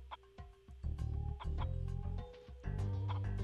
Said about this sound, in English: The animals here are like crazy looking chickens.